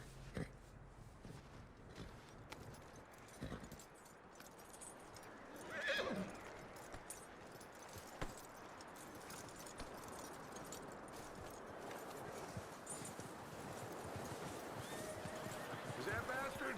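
Red Dead Redemption 2: a horse gives a neigh and its hooves clip-clop, quiet and intermittent, with a voice and low ambient game sound around it.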